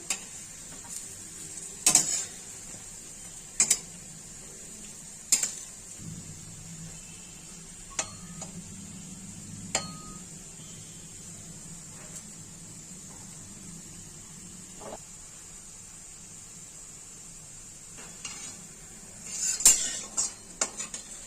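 Gourd and potato peel fritters are flipped in a frying pan: a steady, faint sizzle of oil runs throughout, broken by a few sharp utensil clinks and taps against the pan.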